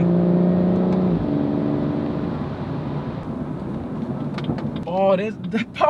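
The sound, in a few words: BMW M140i exhaust popping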